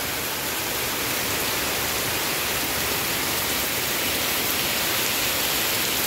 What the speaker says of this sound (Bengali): খুব বৃষ্টি হচ্ছে, খুব খুব খুব খুব।